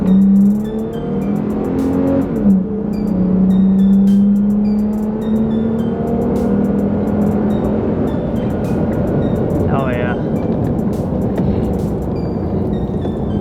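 A Toyota Tacoma pickup with a Holley cold air intake accelerates on a street, its engine droning and rising in pitch as it pulls, heard steadily from inside the cab.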